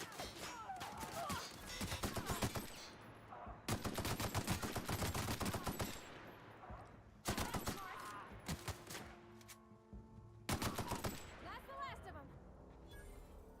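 Machine gun fire in The Outer Worlds comes in several loud, sustained bursts separated by short pauses, with voices talking over the shooting.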